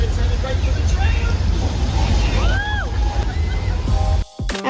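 On the Universal Studios tour train, a sprinkler rain effect splashes and sloshes heavily toward the tram amid loud rushing water, with people's voices and squeals mixed in before the sound cuts off abruptly.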